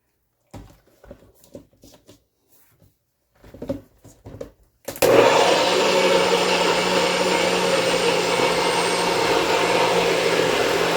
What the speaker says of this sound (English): See how powerful this blender is.